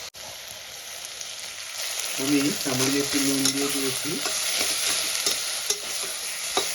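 Onions frying in a pan with oil for South Indian style tomato rice, a steady sizzle and hiss throughout, with a few soft spatula scrapes and stirring knocks midway, while someone speaks briefly over it.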